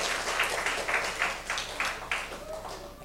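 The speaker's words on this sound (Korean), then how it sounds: "우리 하나님 앞에 영광의 박수를 한번 드릴까요?" A church congregation claps in unison, evenly spaced beats repeating about twice a second and fading at the end.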